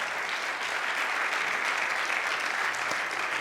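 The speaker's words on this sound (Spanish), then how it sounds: "Dale un fuerte aplauso." A church congregation applauds during a sermon, a dense, steady roar of many hands clapping that holds at an even level throughout.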